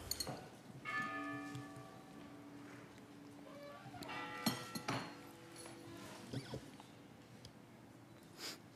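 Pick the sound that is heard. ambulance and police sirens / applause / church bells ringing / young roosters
church bells ringing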